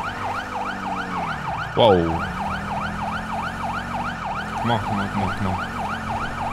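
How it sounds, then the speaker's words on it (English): Police car siren in GTA 5 with the LSPDFR mod, during a Corvette patrol, wailing steadily and loudly through the whole stretch over engine drone, with a brief exclamation and a short spoken remark. "Once I get close enough, I'm gonna turn off my siren."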